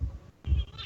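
Pixie the pet cat gives a couple of tiny, faint chirping meeps in quick succession, soft and close, with no talking over them.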